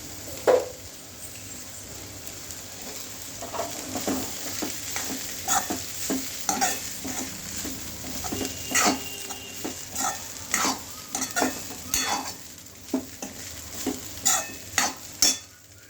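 Poha for Indori-style poha stirred and fried in a hot pan: a steady sizzle carries a run of repeated scraping, clattering stirs that grow busier toward the end, close and fairly loud, with no talking.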